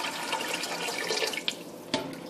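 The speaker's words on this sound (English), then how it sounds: "Now to this, I'm going to add about this much water." Water pours steadily into a cooking pot for a chicken ramen stock, a continuous close splashing gush with a couple of small plinks near the end, no talking.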